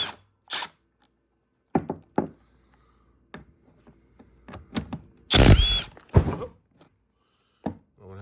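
A tool removes 15 mm bolts from a Porsche seat, with short scattered bursts of close mechanical whirring and clicking separated by quiet gaps, one longer louder burst standing out near the middle.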